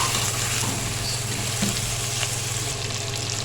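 Chicken pieces browning in a pan for biryani give a steady, close, dense hiss of frying that holds evenly throughout, with no voices.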